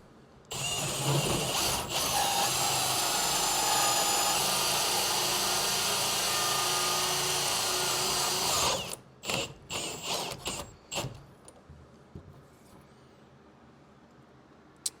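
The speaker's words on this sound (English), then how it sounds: "So we're drilled all the way through with the exception of the siding" A power drill whines steadily at full speed while boring through a house wall for a mini split line set, then stops and gives way to a series of short knocks and clunks.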